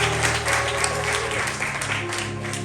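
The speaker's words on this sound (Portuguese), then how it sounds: "Aplauda o Senhor bem forte, diga glória a Deus." Church congregation applauding during a sermon, a steady wash of clapping heard over a sustained musical drone and hum, fairly loud and continuous.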